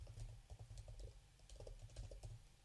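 Continuous, fairly quiet clicking of keys on a computer keyboard in an irregular typing rhythm, with a low background hum and no speech.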